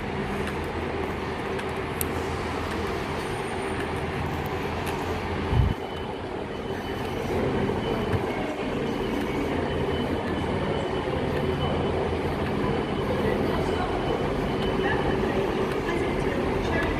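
A train, unit 158784 in from Blackpool South, pulls into the station with a steady low rumble that builds gradually, a brief thump near the middle and someone talking now and then over it.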